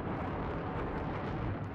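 Explosion in the video game Battlefield 4 China Rising, air superiority mode: a dense, steady rumbling roar with no clear onset, filling the whole short stretch at moderate level.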